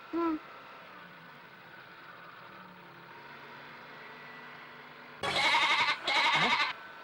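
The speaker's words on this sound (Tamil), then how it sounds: "ஆடு கத்துற சத்தம் கேக்குது" Two loud, wavering goat bleats arrive close together near the end, following a short cry at the start over a quiet, steady background hum.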